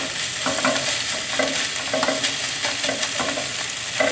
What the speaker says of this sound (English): I'm just gonna stir fry the vegetable until crisp